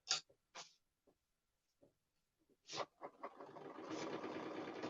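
A sewing machine tacks down base fabric with white thread for a placement and tack-down stitch; after a few faint starts and short bursts, it settles into a steady, continuous whir that runs to the end.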